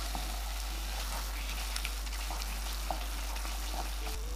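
A kalakand mixture made from leftover rice is stirred in a kadai, sizzling steadily and close up, with soft scraping clicks of the spoon against the pan and a low constant hum underneath.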